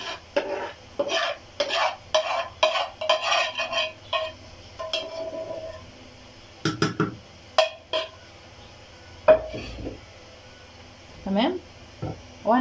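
Spoon scraping and stirring through a pot of boiling lentils as peppered meat is mixed in, in short intermittent bursts with someone talking between and over them.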